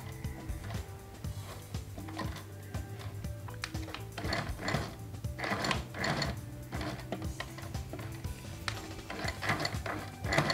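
Sewing machine stitching trouser fabric, close rapid mechanical whirring in short runs of several seconds, separated by brief pauses and handling noises.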